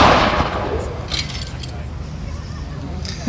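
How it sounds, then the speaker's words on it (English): An artillery gun fires a blank round at a War & Peace military show at Hop Farm in Kent: a loud bang that opens the clip and rolls off into a fading rumble over outdoor crowd noise. "Now, that's actually a very tame bang compared to the bang that you would have got had it been a live round that had been fired."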